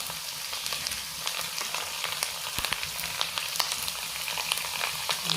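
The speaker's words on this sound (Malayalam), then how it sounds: "ഇഞ്ചി ഇട്ട് കൊടുക്കാം. ഇനി അത് നന്നായിട്ടൊന്ന് ഇളക്കി കൊടുക്കാം." Chopped ginger sizzling and frying in a hot pan while being stirred, a steady close crackle with scattered sharp pops and occasional utensil scrapes throughout, no voices.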